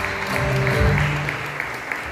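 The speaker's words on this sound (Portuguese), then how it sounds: "Vamos aplaudir ao Senhor em nome de Jesus" Church congregation applauding the Lord during an evening worship service, a dense steady wash of clapping from many hands that fills the room without pause.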